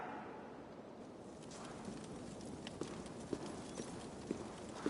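Horse hooves clip-clop steadily in Assassin's Creed Valhalla, a moderate walking rhythm with sharper hits toward the end, without speech over it.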